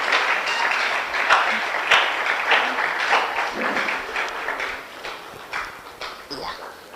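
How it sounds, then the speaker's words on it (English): Sustained applause from a crowd, steady clapping throughout with voices and cheers mixed in. "Let's continue the applause"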